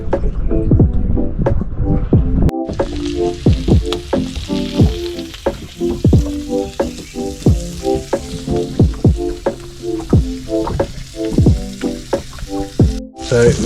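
A mackerel fillet fries in garlic butter with a loud, close sizzle broken by repeated scraping and clattering strokes in an uneven rhythm, cutting out briefly twice.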